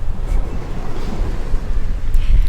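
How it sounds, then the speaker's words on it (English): Loud ocean surf at a beach rolls in a steady, dense rumble, with heavy wind buffeting the microphone throughout and no break in the wash of waves. "The ocean is very loud."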